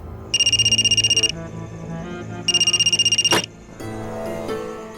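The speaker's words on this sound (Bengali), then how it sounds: "রাঙ্গেলিকে একটা ফোন করি" A telephone bell rings in two loud, rapid trilling bursts separated by a pause, with a sharp click between and steady background hum.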